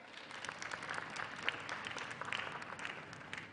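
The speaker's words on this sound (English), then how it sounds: "we can give ourselves a round of applause" Steady applause fills a hall at a national women's summit and expo, many hands clapping evenly throughout, heard at a distance and fairly faint.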